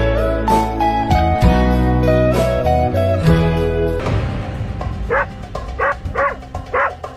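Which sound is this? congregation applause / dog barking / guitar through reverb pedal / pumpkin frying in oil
dog barking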